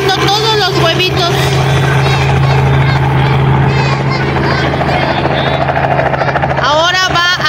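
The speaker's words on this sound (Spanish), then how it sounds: "Ahora va a descender el helicóptero" A helicopter that has just dropped Easter eggs over an outdoor egg hunt in Dayton, Ohio, descends with a loud, steady rotor drone close by, while people talk over the engine noise.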